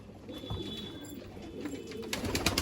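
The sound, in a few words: Rampuri pigeons in loft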